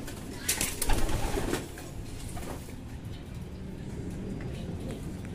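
Pigeons coo softly at moderate distance in a loft, with low murmuring calls and a burst of fluttering and scuffling near the start before the sound settles into a quieter, steady background.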